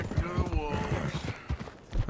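Horse hooves clip-clop at a steady walking rhythm in the Red Dead Redemption 2 video game, close and clear, with voices talking over the hoofbeats.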